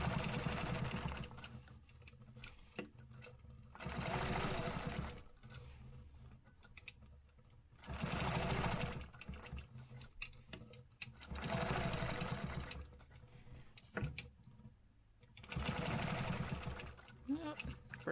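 A sewing machine stitches zigzag lines across a stencil project in five rhythmic runs of rapid chattering clatter, separated by short quiet pauses with faint handling sounds, moderately close.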